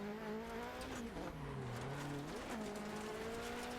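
A rallycross car in the video game DiRT Rally 2.0 drives with a sustained engine drone that rises and falls through gear changes, steady and fairly close, heard alone without talk.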